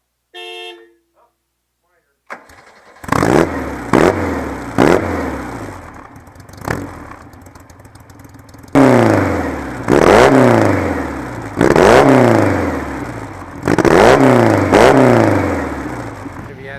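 A modified Volkswagen engine of about 160 horsepower in a 1955 Porsche 550 Spyder revs hard repeatedly, each loud roaring burst climbing in pitch then dropping back to idle, close by.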